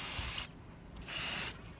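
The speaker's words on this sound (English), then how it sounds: "What am I gonna do when all the spray painting is done?" Two hissing bursts from a spray can painting inside a trailer under renovation, each about half a second, separated by a brief pause, close and fairly loud.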